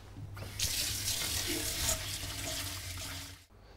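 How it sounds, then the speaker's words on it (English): Cold water runs steadily from a kitchen tap as leeks are rinsed under it, a loud continuous splashing hiss that cuts off abruptly near the end. "I'm just going to rinse them under cold water and really make sure I get rid of all that grit."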